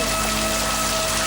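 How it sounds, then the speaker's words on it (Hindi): Steady rain falling close by, a dense continuous hiss with a faint tonal hum underneath and no voices. "ये बरसात तो अभी हो रही है"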